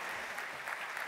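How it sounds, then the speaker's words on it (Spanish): Brief steady applause from a congress audience welcoming a speaker before a talk on sport, dense, even clapping throughout. "gracias por el aplauso inicial"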